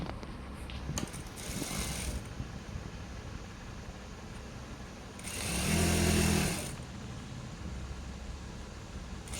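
A sewing machine stitches a pant seam for a churidar set in two loud whirring bursts, one at the start and a longer one midway, separated by quieter room noise.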